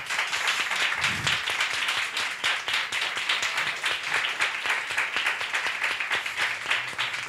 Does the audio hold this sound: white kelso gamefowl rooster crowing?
no